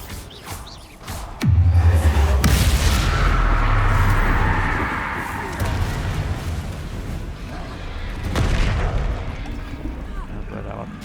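A Bombarda spell explodes in Hogwarts Legacy, a sudden loud low boom that swells into a sustained rumbling blast with crackling debris, easing off before a second surge near the end.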